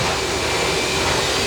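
A hair dryer blows on a tiny Pomeranian-Papillon mix during grooming, a loud, steady close whooshing roar filling the brief moment with no voices.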